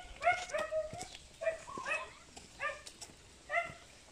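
A few dogs bark and yip in short bursts in a residential subdivision in Koronadal City, moderately distant and fairly faint, with irregular pauses between volleys.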